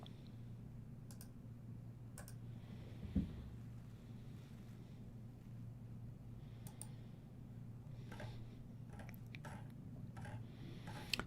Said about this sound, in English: your mouse clicks sound less different today